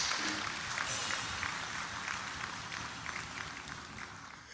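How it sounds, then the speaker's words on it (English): A round of applause from the audience at the opening ceremony of an election security management workshop, a dense continuous clapping that fades slightly toward the end. "General Lucky Irabor, deserves a much louder round of applause"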